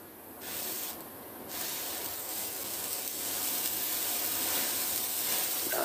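A small bundle of Morning Glory novelty fireworks burns in snow with a steady, loud spraying hiss that holds for several seconds and swells slightly toward the end.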